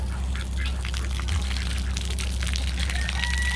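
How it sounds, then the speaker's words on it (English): Steady rushing water runs continuously from a tap, a constant broadband gush with faint chirps and rustles on top. "I need to shut this water off real quick."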